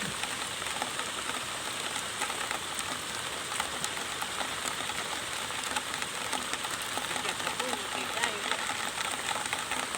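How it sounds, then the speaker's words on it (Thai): Steady rain falls continuously on a fish pond, a dense hiss of drops hitting surfaces without pause. "ฝนก็ตกนะคะ"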